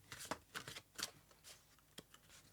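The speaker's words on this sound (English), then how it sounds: "they're quite big cards to shuffle" Quiet riffling and soft slaps of large oracle cards being shuffled, irregular bursts close by, with no talking.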